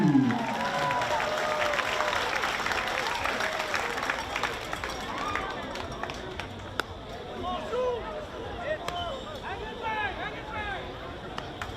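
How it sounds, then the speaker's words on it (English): Crowd at a baseball game between CNMI and Palau at the 2025 Pacific Mini Games applauding and cheering for a player introduction, a steady dense roar of clapping that slowly thins over several seconds, with faint talk in the background. "How about an applause for Joshua Matthews?"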